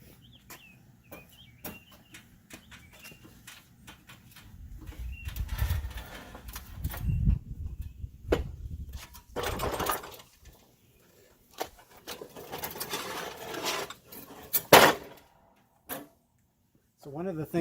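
A heavy John Deere 445 54-inch steel mower deck, freshly fitted with sharpened blades, is turned back over in a workshop, giving a few loud clunks and scrapes in separate bursts between quieter stretches.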